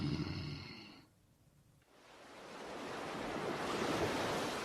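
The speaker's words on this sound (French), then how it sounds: "Il y a de la vague, de la grosse vague, de la déferlante" Cartoon ocean waves crash and break on a beach at a surfing spot, a loud, continuous roar of surf that swells in after a brief quieter lull.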